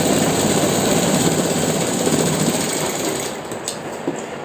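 Sewing machine stitching the back pocket of a pair of pants, a steady close mechanical whir with a fine rapid needle rhythm running continuously, easing slightly toward the end, with no talking.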